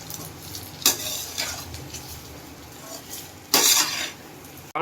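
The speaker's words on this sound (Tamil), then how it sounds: "இப்போ நம்ம வெடிச்ச சாதத்தை போட்டு நல்லா வதக்கிக்கலாம் மக்களை." A spatula scrapes and tosses rice for chicken fried rice in a sizzling pan, with two sharp metallic scrapes standing out over a steady frying hiss.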